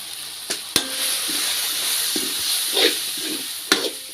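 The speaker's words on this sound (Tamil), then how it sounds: "வீட்டில் அரைச்சி வச்ச குழம்பு தூள் சிக்கன் மசாலா மஞ்சள் இது இதையெல்லாம் சேர்த்து எண்ணெயிலே வறுத்திக்கலாம்" Masala and chicken curry powder fry in hot oil with a steady close sizzle, broken by a few sharp spatula scrapes and taps against the pan.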